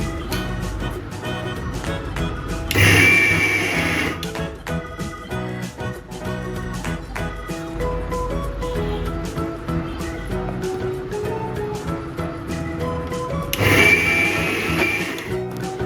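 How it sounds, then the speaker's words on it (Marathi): A mixer grinder grinds soaked rice and poha into idli batter, a loud, continuous whirring churn with two sharp surges in intensity as the motor labours. "आता सर्व मिश्रण बारीक वाटून घ्या."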